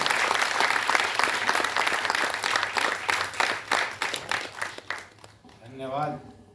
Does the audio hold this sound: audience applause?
yes